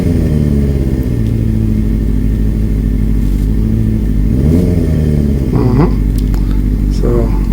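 A Kawasaki ZX6R motorcycle engine runs close and loud at a steady idle, then rises in pitch in a couple of short revs as the bike begins to move.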